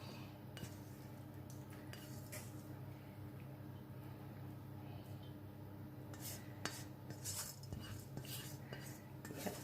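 Fried rice with vegetables being scraped and tipped from a pan back into its rice dish, a steady run of metal utensil scrapes and clinks against cookware, close and moderately loud, with no talking.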